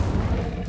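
Incendio fire spell cast in the Hogwarts Legacy video game, a dense low roaring burst of flame that sustains loudly through the short moment with no voices.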